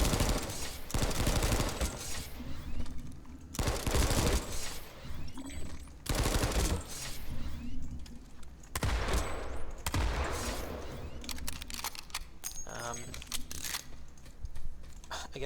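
Gunfire from weapons in the Planetside 2 shooter game: loud rapid automatic bursts separated by short gaps, with clicking keys and mouse in between and faint game ambience.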